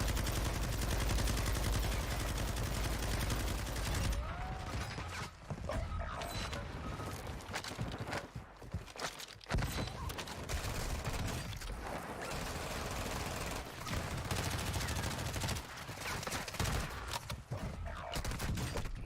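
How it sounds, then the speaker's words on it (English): Continuous gunfire in the Warzone video game, a teammate shooting somewhere nearby with dense, sustained bursts layered over game ambience for the whole stretch, no talk. "is that a teammate shooting over there?"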